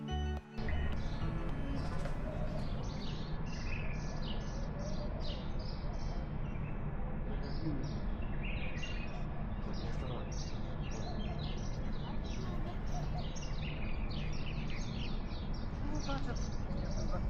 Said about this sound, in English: you could hear the birds twittering